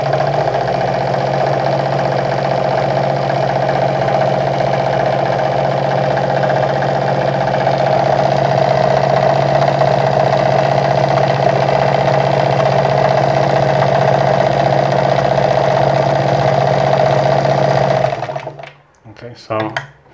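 A Vigorelli ZZ/A robot sewing machine stitches a decorative design into fabric, a loud, steady mechanical hum and rapid needle clatter running unbroken for about eighteen seconds before stopping abruptly, followed by a few faint clicks.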